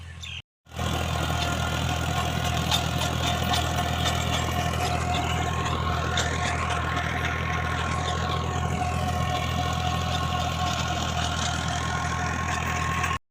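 A tractor engine idles on a farm plot, a loud, steady, unbroken drone running alone after a brief cut at the start.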